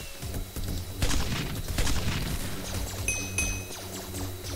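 Blaster fire in a Star Wars-style galaxy battle video game: a burst of rapid sharp shots and booming impacts, clustered near the start and middle, with a couple of bright zapping tones later, and no voices.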